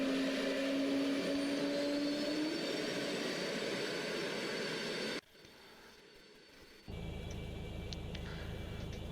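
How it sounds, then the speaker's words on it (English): Concorde jet engine starting up in a flight simulator, a rising turbine whine and roar that holds steady, then cuts briefly to near silence before a lower hum returns. "And the engine is lighting up. It's a very cool sound on this engine startup on the Concorde."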